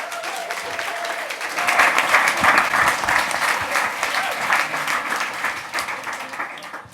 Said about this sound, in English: Can we get another round of applause for the Good Hair Company?